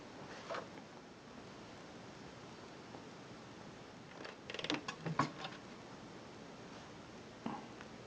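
A tutone green Singer sewing machine's mechanism turns with faint creaks and soft clicking, a short cluster of mechanical ticks standing out midway against a quiet background hiss.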